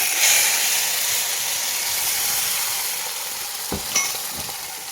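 Ground masala paste hitting a hot pan already crackling with fresh curry leaves for a Malvani raw mango saar, giving a steady, loud hiss of sizzling with a few sharp pops and clicks.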